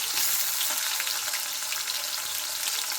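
Chopped onion frying in hot oil with whole garam masala for chicken biryani, a dense, steady sizzle that stays loud and even, with no talk.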